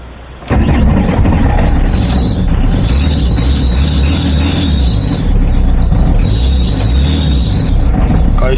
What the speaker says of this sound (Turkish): Kangoyu normal bir şekilde çalıştıracağız arkadaşlar.